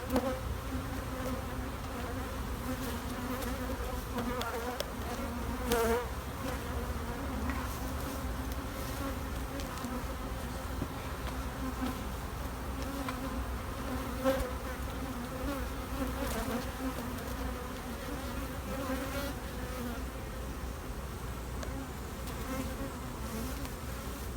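A mild-tempered honeybee colony buzzes steadily around open hive boxes, a dense continuous drone close by with individual bees zipping past, and no talking.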